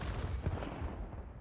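Large ship weapon blasts burst like big fireworks in the space game Star Citizen, a dense rumbling flurry of low booms and crackles heard up close, fading out toward the end.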